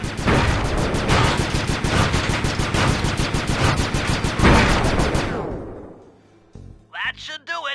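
Automatic gunfire from a spotlight security gun in the video game Sly 2, a loud, dense stream of rapid shots for about five seconds that fades out, followed by a few brief electronic blips.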